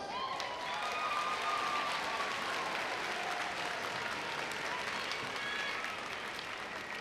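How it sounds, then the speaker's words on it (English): A graduation ceremony audience at John Adams High School applauds with dense, continuous clapping from a large crowd, with faint cheers and whistles rising above it. "look around, give them a round of applause"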